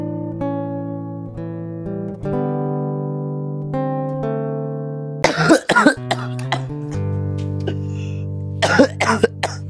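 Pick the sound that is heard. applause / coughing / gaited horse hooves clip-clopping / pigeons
coughing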